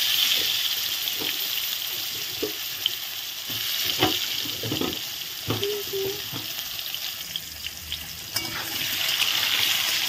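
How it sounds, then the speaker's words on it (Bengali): Potatoes sizzle steadily in hot oil, a continuous close frying hiss with occasional bubbling pops and brief stirring clinks throughout, no voices. "এখন তেল গরম হয়ে গেছে, তেলে আমি এখন দিয়ে দেব আলু।"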